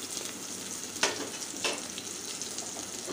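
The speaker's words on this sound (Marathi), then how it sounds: "लसूण आणि हिरव्या मिरच्या थोड्या लालसर होईपर्यंत परतून घ्यायच्या आहेत." Garlic and green chilies sizzle in hot oil in a pan over a medium flame, a steady close frying hiss with two brief stirring scrapes.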